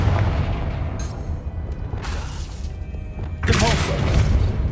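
A Confringo fire-blast spell from Hogwarts Legacy, a booming burst that lands near the middle of the clip and again with a broad crackling surge toward the end, over steady game ambience, with a spoken voice partway through.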